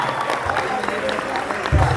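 A crowd at a Hindi comic poetry recital gives a short burst of applause, a dense patter of clapping that swells near the end, with murmuring voices underneath.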